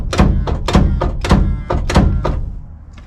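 A metal bar pries and knocks against a seized Cummins 855 diesel engine: about seven heavy, dull thunks at a steady half-second rhythm, close and loud, with nothing else heard.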